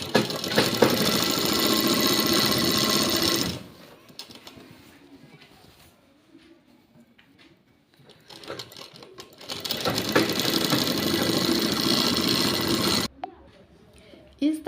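A sewing machine stitches a trouser seam in two loud, close runs of a few seconds each, separated by a quieter stretch of faint handling noise, with a short burst of stitching at the very end.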